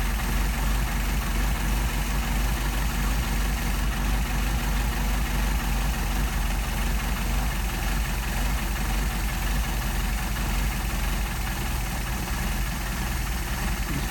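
A steady low engine idle continues without a break, tuned with a Solex carburetor and held deliberately slow, with a constant deep drone and even loudness throughout.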